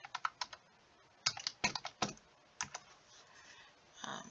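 Quick bursts of keystrokes clatter on a computer keyboard, coming in short uneven clusters separated by brief pauses, close and fairly quiet.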